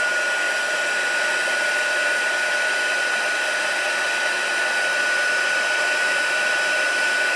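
A heat tool blows a constant, loud airy whir while melting embossing powder on cardstock, unbroken and alone for the whole stretch.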